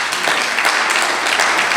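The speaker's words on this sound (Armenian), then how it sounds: "Կարանք մի հատ բարձր ծափ տանք Հիսուսին։" A church congregation applauding loudly, a dense, even wash of many hands clapping close by with no pauses, briefly and without speech.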